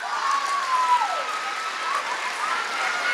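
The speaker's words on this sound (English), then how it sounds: "Can we get one more round of applause for our fantastic second graders?" An audience at an elementary school spring concert claps, a soft, diffuse patter of applause that carries on steadily, with a brief faint tone gliding through it early on.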